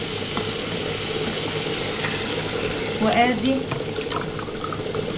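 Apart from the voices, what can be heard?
water poured into a pot for cooking rice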